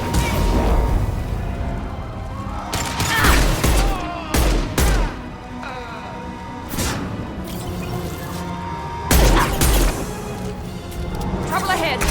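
Explosive shots fire in Mass Effect 2, Legendary Edition, as loud broadband bangs that come in bursts at about 3, 4.5 and 9 seconds, each with a booming tail. Game noise and voices run between them.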